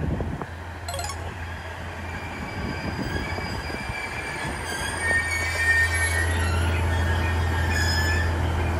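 A Hachiko Line train runs along the rails with steady low rumble and prominent high wheel squeal throughout, fairly near and loud, with no talk.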